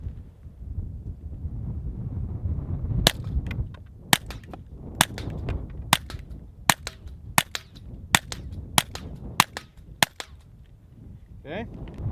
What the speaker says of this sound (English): I'm gonna shoot 10 rounds suppressed of AR tactical, and I'm gonna shoot 10 rounds unsuppressed of AR tactical